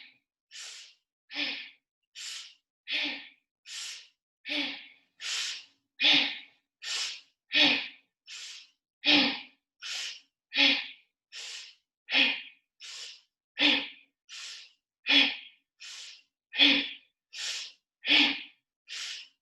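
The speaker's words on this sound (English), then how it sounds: "it's inhale up, exhale down, and it's all through the nose." Steady rhythmic breathing in and out through the nose during a Pilates mat class, about two dozen evenly spaced, close, sharp nasal breaths with brief silences between them.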